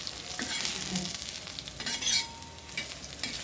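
Coriander seeds roast in a little oil in a pan for a spice paste, giving a soft steady sizzle with scraping stir strokes and brief crackles, close by and with no talking.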